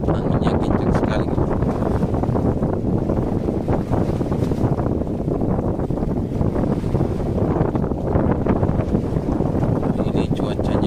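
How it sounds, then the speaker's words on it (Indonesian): Strong wind roars and buffets the microphone steadily aboard a fishing boat at sea at night, a continuous loud rush with water noise underneath and no clear talk. "Soalnya anginnya kencang sekali."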